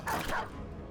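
A short, close bark from a dog in the tactical game Battle Brothers, a single quick yelp that fades out within a second.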